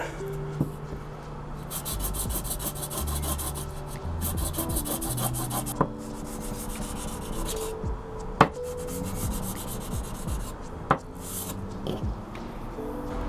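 A used knife has its blade bevel worked by hand against an abrasive in long, repeated rubbing strokes, close and clear, with occasional sharp clicks between passes.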